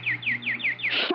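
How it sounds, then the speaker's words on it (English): A nightingale sings a quick run of five bright, descending whistled notes in steady rhythm, close and clear, ending in a short burst of sound. "All the birds are gone but that one. Hello, pretty nightingale."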